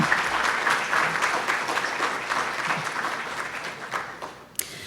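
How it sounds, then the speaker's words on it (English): An audience at a university symposium gives a long round of applause, a dense, even wash of clapping from many hands that tapers near the end, with one sharp knock. "If we could just have a big round of applause for everyone so far who has been here to put this all together."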